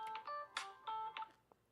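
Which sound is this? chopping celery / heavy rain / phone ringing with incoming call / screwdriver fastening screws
phone ringing with incoming call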